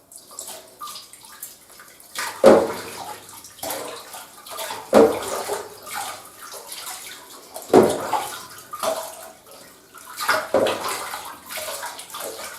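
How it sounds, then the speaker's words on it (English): Running water rinses a white-furred dog in a bath, a steady moderate gush punctuated by splashy surges every couple of seconds as the stream is moved over her coat, with no talking. "Let's give her a wash. Now, let's rinse all this off."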